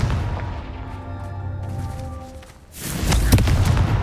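A Confringo fire spell in Hogwarts Legacy ends in a sudden loud blast about two-thirds through, following a steadier low rumbling hum, with no voices.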